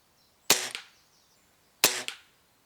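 Two sharp, loud rifle shots are fired from Primos trigger sticks about a second and a half apart, each a close crack followed by a brief echoing tail, with quiet between them.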